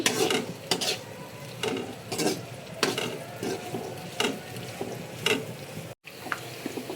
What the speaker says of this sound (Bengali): মুরগির রোস্টের জন্য আর পোলাওয়ের জন্য বেরেস্তার পেঁয়াজ ভেজে নিচ্ছি।